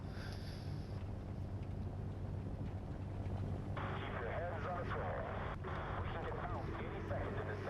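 Twin engines of a P-38 fighter in War Thunder run at full throttle during takeoff, a steady droning roar with windy rush beneath a voice talking over it.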